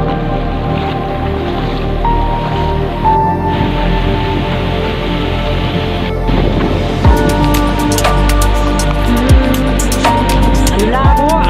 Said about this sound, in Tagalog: Ang daming alon, ang sarap mag-surfing dyan